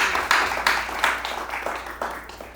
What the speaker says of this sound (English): Let's give Ari a big round of applause.